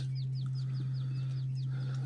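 Newly hatched Texas giant quail chicks peep in a quick series of thin, high downward chirps, close and clear over a constant low electrical hum.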